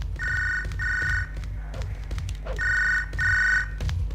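A telephone rings in the video game Hard Time, giving two pairs of bright, trilling bursts separated by a short pause, loud and close over a low rumbling game background.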